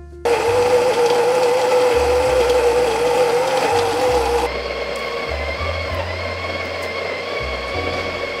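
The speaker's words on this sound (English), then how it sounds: "I did notice how loud the Encore ESP is compared to the built-in grinder." A Baratza Encore ESP coffee grinder grinding beans for espresso produces a loud, steady motor whir that starts abruptly. Partway through it shifts to a slightly lower, rougher drone, with no talking.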